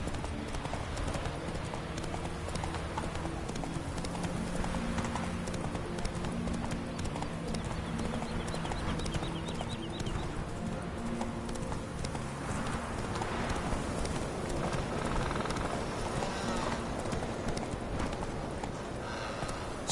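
Hooves of Roach, a horse in a video game, clip-clopping in a continuous trotting rhythm, close and fairly loud, with game music and ambience underneath.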